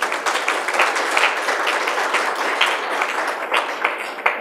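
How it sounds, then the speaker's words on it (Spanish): An audience at a Spanish-language panel on Argentina's elections breaks into steady applause, many hands clapping together in a dense, even patter that holds for several seconds. "Un aplauso."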